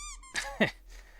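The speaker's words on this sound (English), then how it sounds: "Oh, I can honk the nose." A squeaky clown-nose honk sounds in the video game Five Nights at Candy's 2, with a high tonal squeal at the start and two short squeaky bursts after, fairly quiet and alone without talk.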